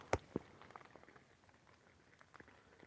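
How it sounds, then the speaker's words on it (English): Condensation drips falling from leaves in a forest on a mild day: a few sparse, soft drops patter at irregular intervals, faint and distant against a quiet background. "It's the condensation falling off the leaves."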